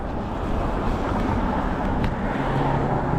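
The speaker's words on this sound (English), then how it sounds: "All these trucks and cars, a lot of traffic." Passing trucks and cars roar by on a busy street in Hawthorne, New Jersey, heard from a moving e-bike: a thick, continuous low rumble of engines and tires with wind buffeting the microphone, close and steady.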